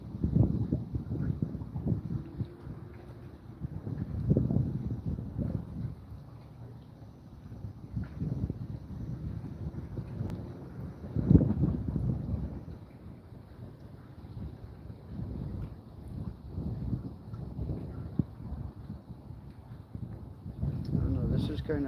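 Strong wind buffets the microphone outdoors on a fishing trip, a rough, fluctuating rumble that rises and falls in gusts beneath a voice speaking at intervals.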